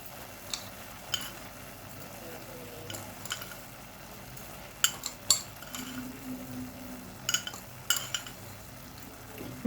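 A spoon stirs sugar into carrot halwa in a pan over a low flame, giving soft scraping with sharp metallic clinks against the pan, intermittent and fairly quiet over a faint background hiss.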